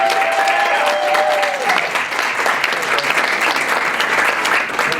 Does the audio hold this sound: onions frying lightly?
no